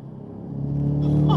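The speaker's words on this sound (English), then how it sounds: "you still get that blow-off valve noise" COBB-tuned stage 3 Ford Mustang accelerating, engine drone rising steadily in pitch and loudness, with a faint hiss near the end that could be the blow-off valve.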